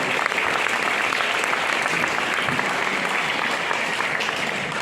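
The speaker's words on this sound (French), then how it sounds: "on peut vous applaudir une nouvelle fois" An audience at an Olympic and sports gala evening in Chelles breaks into sustained applause, a thick, steady mass of clapping from a large crowd holding at full volume without a break.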